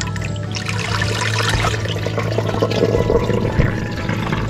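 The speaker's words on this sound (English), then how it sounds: "there should be some muddy water coming out" Muddy water flows steadily out of a spring being flushed, a continuous close trickling and gushing wash with no talk over it.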